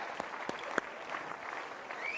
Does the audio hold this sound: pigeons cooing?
no